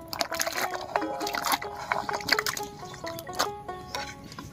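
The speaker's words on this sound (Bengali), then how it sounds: "এবার কেটে রাখা কাঁঠালি বিচিগুলো দেব।" Cut jackfruit seeds drop into lightly warmed water in a wok, giving several close splashes and sloshing plops with small clinks, irregular and fairly quiet.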